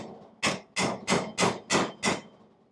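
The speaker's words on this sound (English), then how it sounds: "I'm just going to put a punch on it" Six sharp, evenly spaced metallic hammer blows on a punch driving out a rivet, close and loud with brief ringing decays, no speech.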